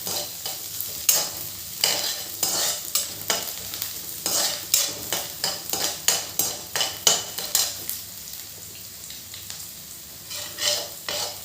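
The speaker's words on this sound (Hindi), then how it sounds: "हरी मिर्च जो कि मैंने 4 हरी मिर्च काट रखी है, इनको हल्का सा भून लेते हैं" Garlic cloves and four chopped green chilies sauté in a pan of oil for okra, a soft sizzle under rhythmic metal spatula scrapes and taps against the pan, close and continuous.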